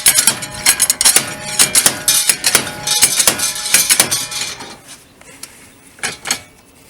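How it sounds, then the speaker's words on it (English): Sharp metallic clanks from a hammer striking a car axle to knock it loose during a wheel bearing replacement, with a rapid irregular series of close, loud blows that thins out toward the end. "Hit the axle in there and make it move."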